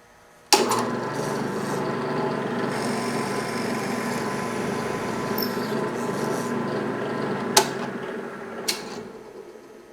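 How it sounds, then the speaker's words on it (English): A power drill with a Forstner bit bores a clean hole through a piece of wood for a banjo bridge, whirring loudly and continuously with a grinding rasp, then slowing and stopping near the end. "The Forstner bit makes it very easy to drill a clean hole."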